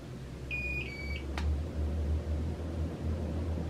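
A Harbor Breeze Mazon ceiling fan's control gives a short pair of electronic beeps, thin and clear, followed by a faint click, over the steady low hum of the running fan.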